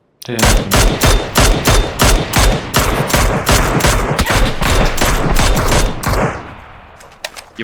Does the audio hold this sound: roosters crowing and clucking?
no